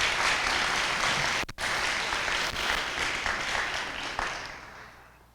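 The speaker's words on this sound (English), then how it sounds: "would you join me in a round of applause for him?" Audience applause for Dr. Ken Hallman at a university Holocaust Remembrance Day event, a sustained wash of clapping from a large crowd that gradually thins and fades out.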